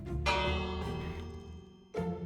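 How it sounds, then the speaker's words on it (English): A shop-counter service bell in Minecraft rings twice, a long resonant chime with a tail, then a second strike near the end, loud and close with no talk. "Please ring the bell for service."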